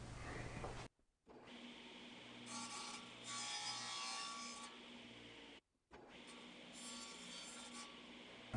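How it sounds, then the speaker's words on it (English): A wooden baseboard is cut on a miter sled, producing a steady, close, rasping sawing roar in two long passes, separated by brief silent gaps. "The baseboard sections will be cut using this miter sled."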